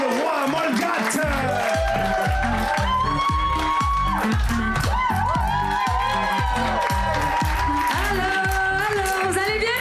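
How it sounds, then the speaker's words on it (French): A stand-up comedy audience applauds and cheers loudly and steadily as a comedian is introduced on stage, dense continuous clapping mixed with whoops and crowd noise throughout. "vous pouvez vous donner une bonne main d'applaudissements d'avant"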